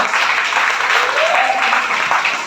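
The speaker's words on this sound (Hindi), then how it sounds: "इनके लिए जोरदार तालियां, जोरदार।" A seated audience at a motivational talk breaks into loud, continuous applause that fills the whole stretch, with a faint voice briefly audible over the clapping.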